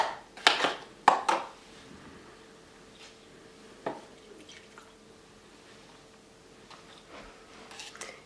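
A small batch of drywall joint compound mixed by hand, giving a few soft knocks and wet scraping clicks early on, then a quiet stretch with occasional faint taps.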